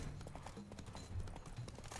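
Horse hooves clip-clopping in The Witcher 3: Blood and Wine, a steady trotting rhythm of muffled thuds over game ambience, with a faint low voice in the background.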